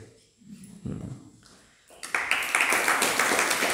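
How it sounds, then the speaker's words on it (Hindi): Audience applause breaks out during a Hindi religious sermon, a dense wash of many hands clapping that swells abruptly and continues steadily after a brief stretch of quieter murmuring. "ताली क्यों बजा रहे हो?"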